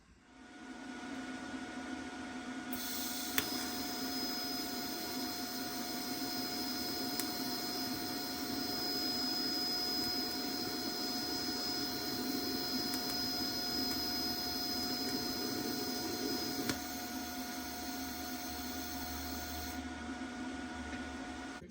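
A TIG welder runs on a drill press bearing housing, holding a steady, even electrical hiss and hum for about fourteen seconds. It starts and stops cleanly against a quieter background drone, close and moderately loud, with no speech.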